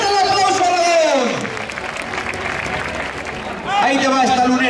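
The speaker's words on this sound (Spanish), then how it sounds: "Pitón izquierdo, ¡fuerte el aplauso, Jalabón!" A crowd at a bullfighting event in Alagón, Zaragoza, breaks into applause, a dense wash of clapping in the middle of the passage, framed by an announcer's loud excited commentary before and after.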